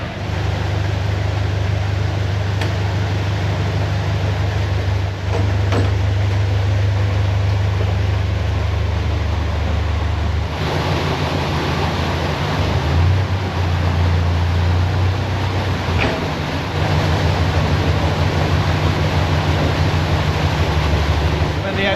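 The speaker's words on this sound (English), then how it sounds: "There's going to be quite a surge of water when they lift the paddles up when we get inside the chamber." Water surging into a deep canal lock chamber on the Chesterfield Canal around a narrowboat, a loud, continuous rushing roar that never lets up.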